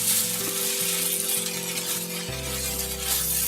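Ginger sizzles and fries in oil in a pan, a steady close hiss running throughout with a faint tonal hum beneath it.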